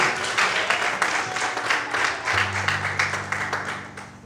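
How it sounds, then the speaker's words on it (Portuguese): A church congregation claps in a rhythmic, pulsing applause that lasts several seconds, with a sustained musical tone entering midway beneath it. "Você pode aplaudir o Senhor?"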